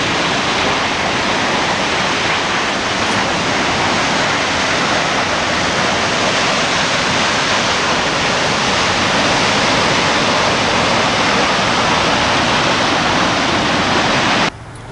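A waterfall in Yosemite Valley roars in a loud, dense, unbroken rush of falling water close by, holding steady for the whole stretch before dropping off abruptly at the very end.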